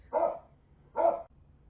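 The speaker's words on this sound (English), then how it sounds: "Forgive the dogs. We've had storms here, and it has thrown my dogs into a tizzy." Two sharp barks from one of three storm-agitated household dogs, nearby indoors, evenly spaced about a second apart with a brief silence between.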